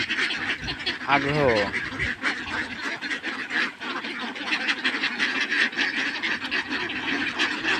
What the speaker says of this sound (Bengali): হাঁসগুলো কিন্তু খুব খাবার খাচ্ছে, বাড়ির যাওয়ার জন্য